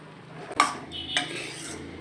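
A spoon stirs cowpea sundal with salt and turmeric in a metal pan over low flame, with two distinct clinks against the pan over a quiet background and no voices.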